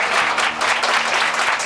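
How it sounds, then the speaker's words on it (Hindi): Loud, steady applause from a school annual function audience, many hands clapping continuously without a break. "एक बार जोरदार तालियां बजा दो"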